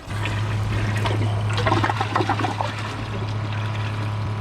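A Champion 4 toilet with an AquaPiston flush valve flushing with its fill hose removed: a close, loud rush and gurgle of water over a steady low hum, with trickling and dribbling as the flow fades.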